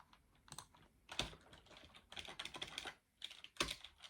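Rapid keystrokes on a computer keyboard come in irregular bursts with short pauses, close and fairly quiet, with no talking over them.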